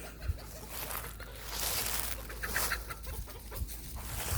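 Chickens cluck softly in a farmyard kept by a livestock guardian dog, a steady low murmur of poultry with a few brief sharper calls throughout.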